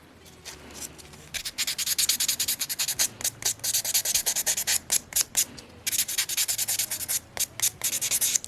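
A buffing block rasps back and forth across fingernails while prepping for dip powder, making close, loud, rhythmic scratchy strokes in rapid bursts with a brief pause partway through.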